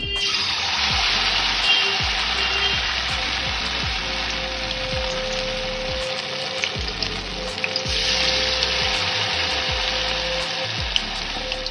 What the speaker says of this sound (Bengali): যেটা গুলে রেখেছিলাম এটা এবার নোটে মাছের গায়ে মাখিয়ে আমি ভেজে নেব।